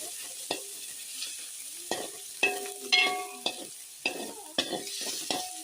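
Sliced onions frying in a pan until browned, with repeated sharp stirring scrapes and clinks of a utensil against the pan over a steady sizzle, close and moderately loud, no talking.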